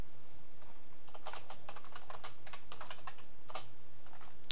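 Quick clusters of typing on a computer keyboard during a programming session, with crisp close keystrokes in short bursts over a steady hiss, no talk.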